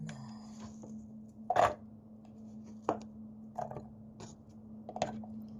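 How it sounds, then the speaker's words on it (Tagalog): Knife chopping spring onion on a board for Shanghai spring rolls: a few sharp, separate chops spaced irregularly, close and fairly quiet over a steady low hum. "But the spring onion I can chop that small."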